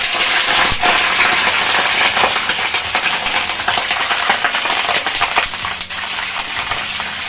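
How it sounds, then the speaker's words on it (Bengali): Small cut cauliflower florets frying in hot oil for a Bengali korma, giving a steady, loud, close crackling sizzle with sharp pops throughout and no talking. "এগুলোকে আমি এবার তেলের মধ্যে ছেড়ে দিচ্ছি।"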